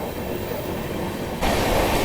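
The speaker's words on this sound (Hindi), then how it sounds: "ये मालगाड़ी चल रही है बगल वाली लाइन पर" A freight train rolls along the neighbouring line in the Kasara Ghat section, a steady close rumble of wagons that swells noticeably louder toward the end.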